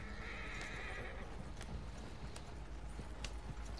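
A horse in Red Dead Redemption 2 gives a clear neigh, followed by a few hoof clops over a low steady background, fairly quiet and close.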